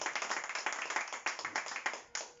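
Congregation clapping in a church during a Spanish-language sermon: a steady, fairly dense burst of hand claps from a crowd, with irregular accents and a few sharper claps near the end, no talk over it.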